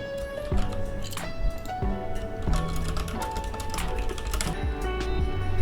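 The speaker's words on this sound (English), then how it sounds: "I'm going to type out my letter now." A letter being typed on a keyboard: quick, irregular runs of close key clicks over a soft, steady tonal background.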